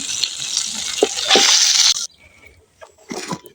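Taki fish fries in hot oil with a loud, close sizzle that suddenly cuts off, followed by brief clinks and a short burst of frying.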